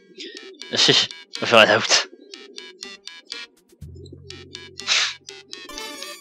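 Pigeons cooing in the video game Hiveswap Act 1, a few soft bursts of bird calls mixed with chirpy tones and brief electronic sounds, with a person speaking briefly in between.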